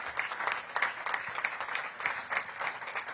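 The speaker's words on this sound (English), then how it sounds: "Give them a big round of applause." An audience at a Washington, DC mayoral housing announcement gives a round of applause for a city housing team; steady, moderate clapping from a modest crowd, continuous for a few seconds with no talking.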